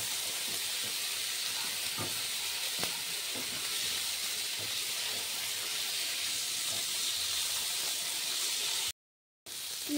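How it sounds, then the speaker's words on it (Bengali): Chopped tomato and onion fry in a pan for a spiced chicken dish, giving a steady close sizzle with scattered small pops that cuts out briefly near the end. "আবার কিছুক্ষণ এভাবে ভেজে নেবো টমেটো কুচিটা"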